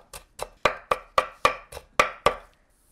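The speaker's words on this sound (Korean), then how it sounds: "단무지를 다져주세요" A knife chops pickled radish (danmuji) on a cutting board in nine crisp, evenly spaced strikes, close and clear with no other sound.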